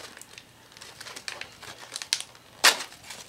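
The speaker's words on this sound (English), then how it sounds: "Oh, you can individually unwrap them" Individually wrapped fish jerky cat treats being unwrapped, giving soft scattered crinkles of packaging followed by one sharp, loud tearing rustle near the end, close up with no talking.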